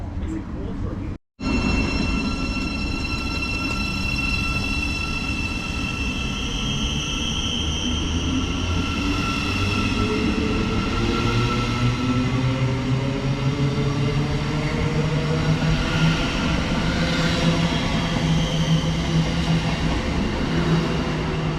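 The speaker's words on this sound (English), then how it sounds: "We're going to let the train go out" An electric Thameslink Class 700 train pulls away from a station close by, its motor whine rising steadily in pitch over a loud, continuous rumble.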